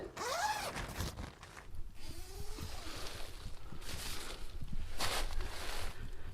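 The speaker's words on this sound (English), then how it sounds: "The zips can easily be undone from the inside." A Naturehike Cloud Peak tent zipper is pulled open from inside in several long, close rasping runs, separated by short pauses and fabric rustling.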